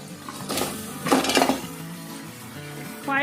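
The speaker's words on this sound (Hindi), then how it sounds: "अब इसमें डाल देंगे हम ये पाए" Beef trotters are dropped into fried masala in a cooking pot, giving a few loud clattering, scraping bursts over a steady background hiss.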